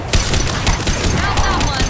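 Continuous rapid gunfire in the video game Mass Effect 2, loud and dense throughout the short stretch, with voices faintly mixed in.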